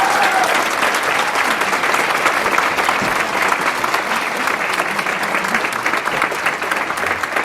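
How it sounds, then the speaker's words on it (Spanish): An audience at a university lecture on violence against women breaks into sustained, loud applause that fills the room evenly throughout, with no voices standing out. "la doctora Rita Segato, para quien pido por favor un aplauso."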